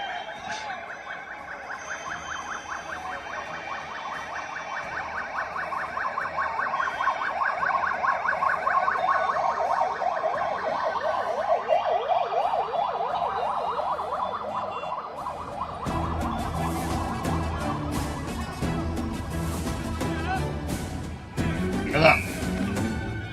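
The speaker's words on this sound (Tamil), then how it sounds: "அடுத்து இன்னொரு ஆம்புலன்ஸ் வருதா" Ambulance siren wailing steadily and loudly for most of the stretch at a crowded political campaign gathering, with a voice over a loudspeaker talking over it before the siren gives way to crowd noise.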